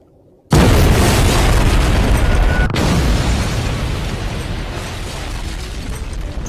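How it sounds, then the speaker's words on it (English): A sudden loud boom bursts in after a brief quiet start, then rolls on as a broad, rumbling roar that slowly fades over several seconds, like a big cartoon-style explosion sound effect. "And then you blow up."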